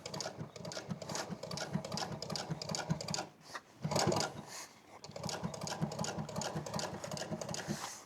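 Sewing machine running a French seam, a steady rapid needle patter in two long bursts with a brief pause near the middle, fairly close and alone.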